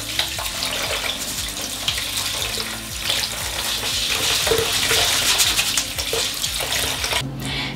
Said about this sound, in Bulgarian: Оризът ще се измие под студената чаша вода.